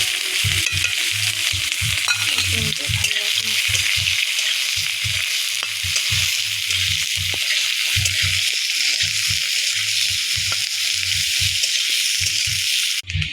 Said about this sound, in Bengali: এগুলো ভালোভাবে ভেজে নেব। এবারে 5 ফোড়ন দেবো। এবার তোমার দেবো হচ্ছে পেঁয়াজ।